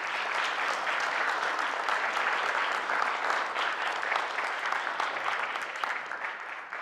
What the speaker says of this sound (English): How about a round of applause for these folks?